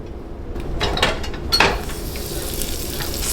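A large piece of skin-on fish or meat fries skin side down in butter in a pan, a steady close sizzle with a few louder spits and light clinks of a utensil.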